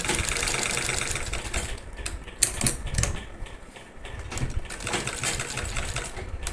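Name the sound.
sewing machine stitching elastic joint of saree belt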